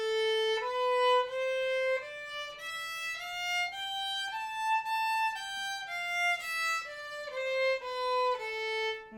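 A violin plays a one-octave A natural minor scale, each bowed note stepping up evenly and then back down, clear and close with no talking.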